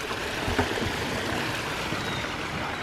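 Water pouring down a 45-foot artificial waterfall in a continuous dense rushing wash, loud and steady with no voices.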